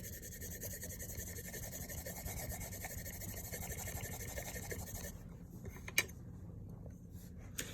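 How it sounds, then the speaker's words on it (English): A hand rubbing steadily over the flats of a Shirogorov knife blade during mirror polishing, a faint continuous rasping friction that stops near the end, with one small tap. "we're just doing a polish"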